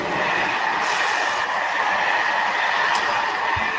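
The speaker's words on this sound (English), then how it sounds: "That's the high-speed bullet train." A high-speed bullet train roars past nearby, a loud steady rush of wheel and air noise lasting throughout, with a brief high squeal near the end and no talk.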